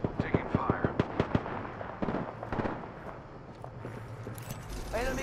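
Incoming gunfire in the video game Apex Legends comes as a string of sharp, evenly spaced shots at a moderate distance, followed by fainter scattered gameplay noise with a voice speaking over it.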